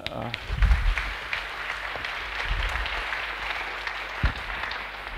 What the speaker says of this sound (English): Let's give these guys an applause.